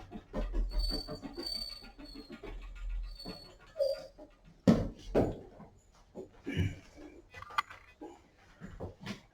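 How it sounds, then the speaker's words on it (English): A dog whines indoors in short, irregular bursts mixed with knocks and clatter, fairly close and moderately loud, with no clear talking. "I think somebody's home because the dog is whining."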